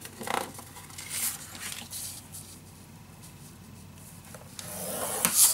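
Paper being scored for a handmade magic box craft, with soft scraping and rubbing strokes, a few brief bursts at the start and end and a quieter stretch between.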